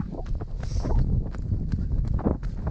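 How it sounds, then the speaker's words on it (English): Strong wind gusting across an exposed, foggy hilltop, a loud steady rumble buffeting the microphone throughout with brief rustling bursts on top. "It's massively windy up here, getting a bit foggy."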